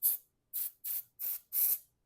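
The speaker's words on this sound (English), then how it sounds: "I'm going to spray some accelerator, the Acfix" Acfix accelerator sprayed onto glue drops in a laser-engraved wall art project, five short close hissing spray bursts in an even rhythm, separated by brief silences, with no talking.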